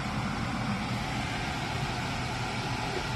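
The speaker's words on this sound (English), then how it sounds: "we're going to go ahead and power on the exhaust fan and the soldering iron station" A soldering-station exhaust fan runs as a steady, dense broadband whir with a low rumble, constant and fairly close, with no speech over it.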